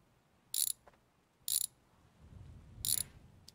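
Cylinder head bolts being loosened from an engine in a garage, three short bursts of ratchet clicking spaced about a second apart, close and fairly loud, with a low rumble between them.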